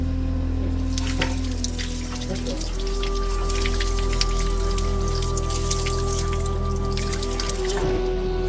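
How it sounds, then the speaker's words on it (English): Holy spring water at Ephesus dripping and trickling in a continuous light patter, close by, with steady tonal hum in the background. "you can take a sip of holy water from the springs"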